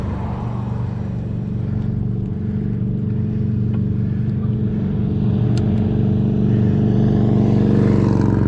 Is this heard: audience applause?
no